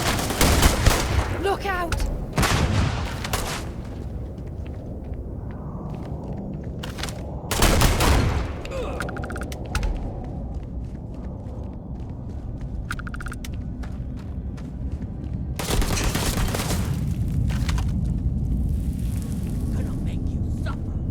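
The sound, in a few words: grenade and gunfire in Starfield video game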